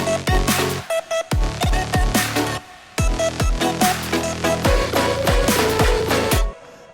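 An electronic dance music drop built from a layered synth stack punches in with sharp rhythmic stabs and chords, briefly cutting out near the middle before resuming, loud and alone.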